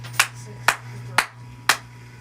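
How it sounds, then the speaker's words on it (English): Four sharp hand claps evenly spaced about half a second apart, close and crisp against a faint background hum. "clapping sync in case we want to cut that"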